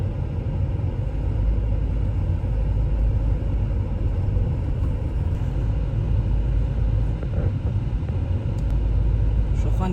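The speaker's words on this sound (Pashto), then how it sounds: "ډېر موټران ځي او راځي" Cars drive along a snowy road in Afghanistan, a constant low rumble of engines and tyres passing nearby, with a voice talking over the traffic throughout.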